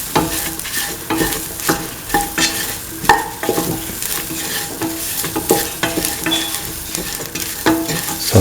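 Soya chunk pieces frying in a pan while being stirred, a close, lively sizzle broken by repeated scraping and stirring strokes in an uneven rhythm, with no voices.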